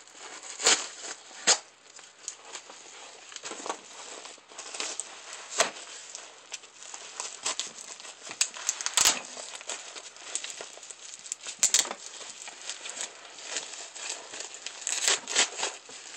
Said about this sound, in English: I'm going to use my first knife I ever made to open this